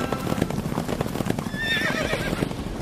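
Chariot horses whinny over a steady clatter of hooves and rolling movement in an animated Hindi folk tale set in a royal court, with the neigh rising clearly in the middle of a busy, continuous scene.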